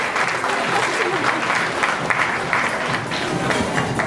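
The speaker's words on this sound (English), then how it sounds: "Let's give them another round of applause." An audience at an awards ceremony applauds the nominees, dense continuous clapping with some crowd noise throughout, loud and close.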